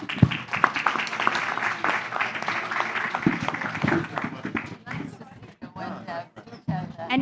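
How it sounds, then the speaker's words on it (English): Audience applause fills a conference session at the COP16 Nature Positive Pavilion, a sustained patter of clapping from a room of people that thins out toward the end, with some talk mixed in. "a little applause for everyone"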